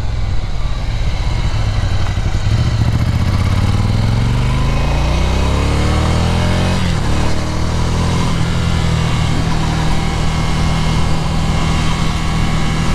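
A 2019 Ducati Scrambler 800 Cafe Racer motorcycle ridden on a road, its engine droning loud and close with rising and falling revs through gear changes and a steady rumble under wind rush, no talk.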